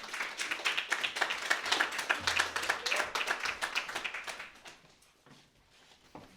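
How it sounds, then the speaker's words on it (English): An audience at a poetry reading claps in a brisk burst of many hands, loudest early, then thinning out to a few scattered claps and quiet near the end. "Everybody, please clap for Michelle Neiman."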